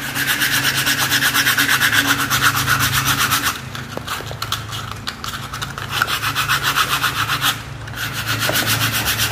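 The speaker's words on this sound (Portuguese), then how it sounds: "Eu uso essa lixa grossa aqui" Coarse iron sandpaper scrubs over a tricycle's surface in steady, loud back-and-forth strokes, with a brief pause partway through before the rhythmic rasping resumes.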